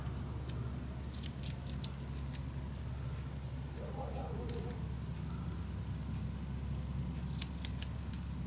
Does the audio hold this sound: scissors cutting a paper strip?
yes